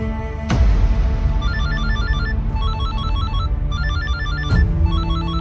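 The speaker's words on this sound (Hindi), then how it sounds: "अभिनव का फोन है। अरे उठाओ ना" A loud electronic phone ringtone plays a repeating melodic pattern, starting abruptly and cycling several times in close succession.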